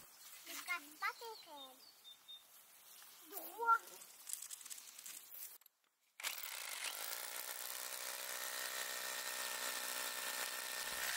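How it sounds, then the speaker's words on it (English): A drill bores holes into concrete, a continuous loud grinding whine starting abruptly after a quiet stretch with a voice and birdsong, then running steadily and close. "I simply drill a couple of holes."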